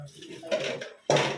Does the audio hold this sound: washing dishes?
yes